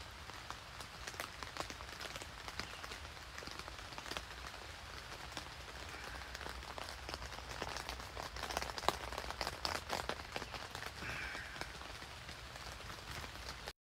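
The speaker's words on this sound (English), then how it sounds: "It's a beautiful rainy morning." Morning rain falling in Wyalusing State Park, Wisconsin, a steady dense patter of drops hitting surfaces, continuous and fairly soft, with scattered sharper drips and no talking.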